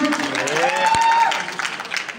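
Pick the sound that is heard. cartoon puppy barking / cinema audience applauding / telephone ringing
cinema audience applauding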